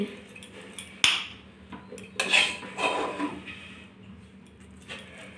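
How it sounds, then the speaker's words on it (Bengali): Coriander leaf mash is scooped from a pan onto a plate, with a sharp metal spoon clank followed by scraping and clinking of utensils against dishes, close by and without speech. "ভর্তাটুকু আমি একটা প্লেটে এসে তুলে নিচ্ছি।"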